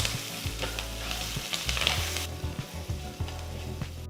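Mustard seeds, cumin, asafoetida, fresh curry leaves and chopped ginger sizzle in hot oil in a pan while being stirred, a steady close crackle with scraping stir strokes and no voices.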